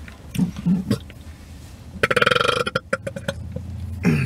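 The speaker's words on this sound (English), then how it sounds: "Sorry, I burped." Loud, drawn-out male burp with a rattling, pulsing texture, followed by a few short gulping bursts and another low burp at the end, close and alone.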